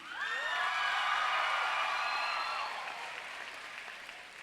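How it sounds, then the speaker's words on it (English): Graduating high school students at their commencement ceremony clapping and cheering together, a broad sustained burst of applause with whoops and shouts from a large crowd that slowly tapers off. "Now from the students, y'all clap"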